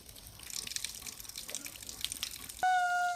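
A weak, low-pressure shower dribbles water in a faint, steady patter close by, then a sustained steady tone abruptly takes over near the end.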